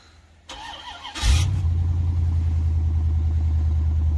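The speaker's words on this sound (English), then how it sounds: "we're gonna get a little cold start of this old Chevy" An old Chevrolet C4 with a Borla exhaust cranks briefly and then catches on a cold start, settling into a steady, fairly subdued idle rumble close by with a faint pulsing beat.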